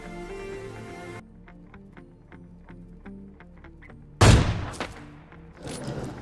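Gunfire in the mobile battle-royale game PUBG Mobile Lite: a quick run of evenly spaced shots, then a louder close burst with a sharp crack and scattered follow-up shots, over game background sound.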